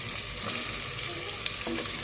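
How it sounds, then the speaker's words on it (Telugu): Chicken pieces for Telangana-style chicken pulao frying in a pan, a steady broad sizzle running throughout with faint stirring scrapes, no voices. "ఇప్పుడు చికెన్ వేసుకోవాలి ఇందులోకి మనము."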